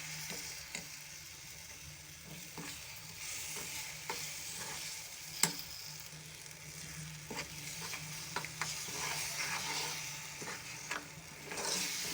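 Gram flour halwa is stirred in a pan, with a soft continuous sizzle under scraping spoon strokes and a few sharper clinks, close and fairly quiet with no talking.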